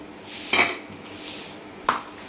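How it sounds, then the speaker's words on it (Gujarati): Spoon scraping and clinking against a pot while ingredients for Gujarati damaalu are mixed, two sharp metallic knocks over a soft scraping background, close and with no speech. "હવે આને એકદમ મિક્સ કરી લઈએ."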